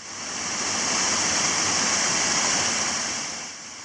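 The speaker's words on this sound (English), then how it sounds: "Next day, next waterfall." A waterfall in the Sydney bush after a day of rain, a steady loud broadband rush of falling water, close and unbroken, with no voices.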